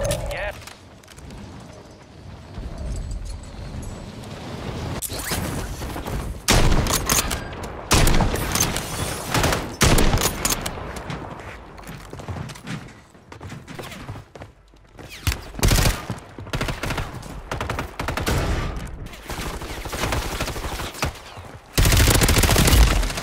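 Gunfire in the Warzone 3 video game on Rebirth Island: dense bursts of automatic fire and rapid shots crack repeatedly at close range across the whole stretch, with a player talking over the shooting.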